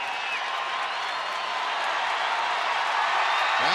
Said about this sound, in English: Crowd really into this ball game now.